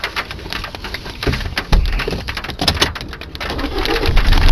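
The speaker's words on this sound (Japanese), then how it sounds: "ちょうど雨降ってきました。" Steady patter of rain on a hard surface nearby in a car park in Kitami, Hokkaido, at 8:30, with a few birds cooing faintly in the background.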